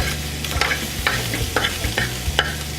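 Pancetta frying in a pan on high heat, with a steady crackling sizzle and repeated scraping stirs roughly every half second, close and clear with no talking.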